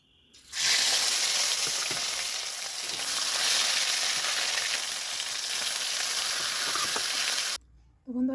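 Eggplant pieces frying in a pan, a strong steady sizzle that starts abruptly and holds close and loud for several seconds before cutting off, followed by brief faint clatter.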